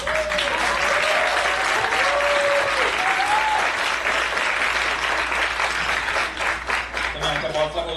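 Theatre audience after a Marathi stage play breaking into sustained loud applause, dense clapping from a large crowd with a voice speaking over it at the start.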